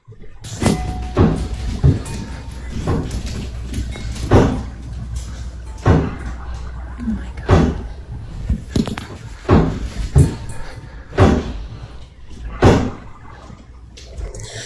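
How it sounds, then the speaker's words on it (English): A door inside a house slams again and again at irregular intervals, sharp close bangs standing out over a low steady background hum. "But the way it's slamming, no."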